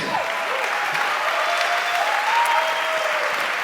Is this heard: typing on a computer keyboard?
no